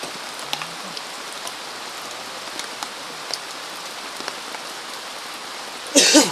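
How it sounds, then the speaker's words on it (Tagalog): Heavy rain pours down in a steady, loud hiss of drops hitting surfaces, with a few sharper drips, before a brief louder burst at the very end. "Buhos na ulan."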